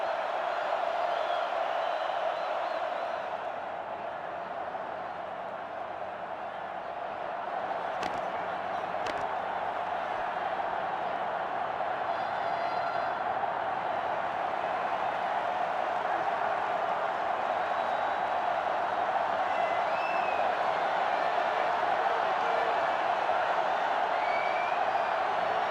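A stadium crowd roars in NCAA Football 08 during a Rutgers vs West Virginia game, a steady, distant wash of cheering that runs unbroken for the whole stretch, with a few faint whoops.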